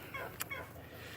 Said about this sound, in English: These are special chickens, and as in they're Icelandic chickens